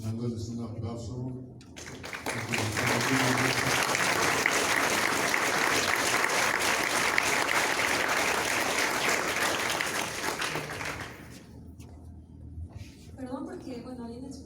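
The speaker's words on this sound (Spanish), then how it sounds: "vamos dándoles un aplauso" Sustained audience applause after a book presentation on coconut wine in New Spain, a loud steady wash of clapping lasting about eight seconds and then fading, with people talking briefly before and after.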